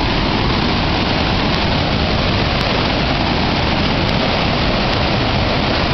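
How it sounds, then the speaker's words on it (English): Rushing river rapids at Duchesnay Falls in North Bay, swollen after heavy rain, giving a loud, steady, broadband roar of churning water that fills the whole stretch without pause. "Check out these rapids, folks."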